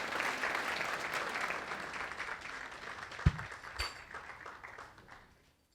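An audience applauds at a 2017 scholarship event, a dense patter of clapping that holds steady, with a couple of sharp knocks partway through, before tapering off into quiet.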